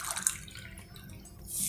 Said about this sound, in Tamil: 4 கப் தண்ணி விட்டு இதை நல்லா கரைச்சிடலாம்.